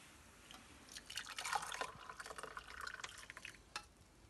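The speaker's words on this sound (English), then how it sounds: "we'll pour it into a cup." Freshly boiled masala chai with milk poured from a pan into a cup, a faint trickling stream with soft drips and splashes lasting a few seconds, no voices.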